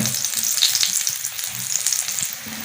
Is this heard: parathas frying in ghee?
yes